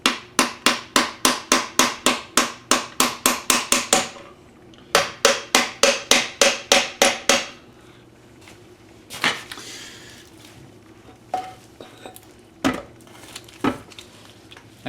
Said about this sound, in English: Tap them back in place with the aluminum tapping block that I have.